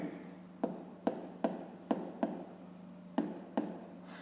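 A pen writes on paper in short scratchy strokes, about eight distinct taps and scrapes spaced irregularly, close and quiet against a faint steady hum, with no talking.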